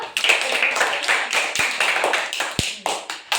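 Children clap their hands in a quick, uneven series of sharp, close claps that run through the whole stretch, with faint voices in the background.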